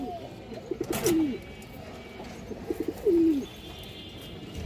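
Army pigeons, including a large female, coo twice in a loft, each a short rolling call spaced about two seconds apart over low background noise.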